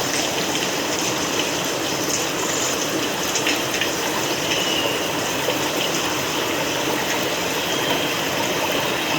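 River water rushing over large rocks that dam the flow, a loud, steady, close roar of gushing water with no pauses.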